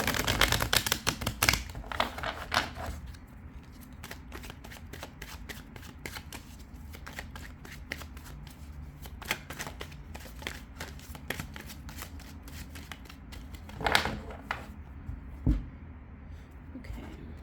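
Tarot cards shuffled by hand during a reading, with a dense burst of riffling snaps at the start, then softer intermittent card flicks and taps, and another quick flurry near the end, close and fairly quiet with no talking.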